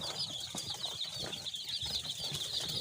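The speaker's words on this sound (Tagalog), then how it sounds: "So yan yung breed ng ating mga alagang day old pullets." Day-old Dekalb White layer chicks peep in a constant high chorus of many small birds, continuous and fairly close, with light shuffling underneath and no talk.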